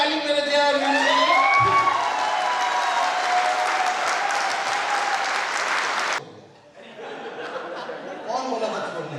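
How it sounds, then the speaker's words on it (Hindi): Loud clapping from a seated crowd at a live event, with cheers and scattered laughter mixed in. A voice talks over the start. The applause cuts off abruptly partway, leaving quieter crowd murmur and chuckles. "तो बजा दो एक बार ताली मेरे दिया और वीरू के लिए।"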